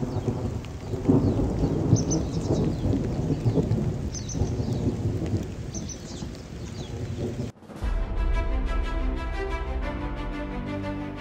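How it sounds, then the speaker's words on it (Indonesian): Heavy rain pours with rolling thunder on a mountain trail up Gunung Sangiang Api, a dense, continuous roar that cuts off sharply after several seconds into a steadier, tonal passage. "hujan deras, tapi rasanya panas ya"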